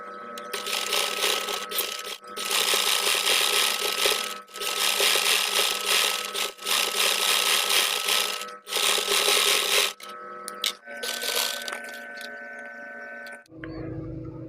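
A sewing machine stitches lace onto the slit of a kameez, running in long loud close bursts with brief pauses between runs and no talking.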